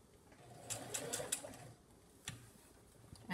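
A sewing machine stitching a cotton fabric mask runs in a few short quiet bursts of rapid needle clatter, separated by brief pauses.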